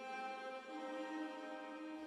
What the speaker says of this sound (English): It has lost all its natural attack and it sounds just like a futuristic shimmer.